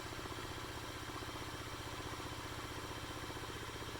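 An unloaded electric motor hums steadily as it spins down on inertia, a faint, even drone with a regular pulsing texture and no talk.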